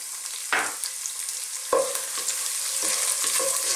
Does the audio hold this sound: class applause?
no